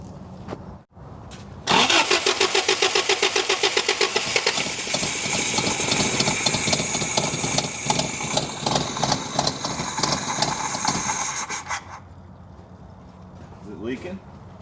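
A 1983 Toyota barn-find engine with a leaking fuel line cranks briefly, then catches and runs loud and steady at a rough idle for about ten seconds before cutting out, with voices speaking around it.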